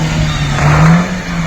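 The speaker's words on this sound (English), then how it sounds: "I J-turned the car." A cheap, battered car revs hard during a J-turn, a steady loud engine drone that swells in the middle of the clip and then settles, close and alone with no talk.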